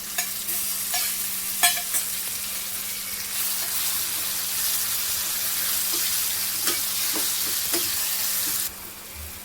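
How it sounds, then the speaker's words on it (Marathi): Roasted chili and ridge gourd paste fries with onions in oil, making a continuous close sizzle with faint scraping and tapping from stirring throughout. "आता आपण हे मिरची आणि तोरी भाजून वाटलेलं ते टाकून घेऊया"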